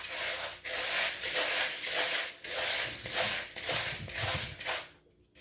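Dry salt cure for smoked salmon being mixed by hand, a close, steady rubbing and scraping of coarse grains in a rhythmic back-and-forth, alone without talk.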